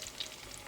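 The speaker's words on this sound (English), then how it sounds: "So our okra is frying up nicely" Okra frying in hot oil in a pan, a steady soft sizzle with fine crackling throughout, fairly quiet and alone, with no voices.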